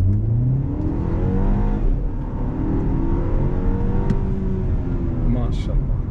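A 2024 BMW X2 xDrive20i pulls away hard under boost, its engine note rising steadily as it accelerates, loud and continuous from inside the cabin with a steady low rumble throughout.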